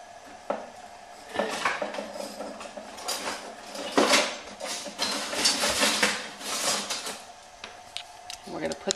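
Metal tongs clink and scrape against a pan of melted butter in a home kitchen, a string of sharp, irregular taps and rattles close by, with talk in between.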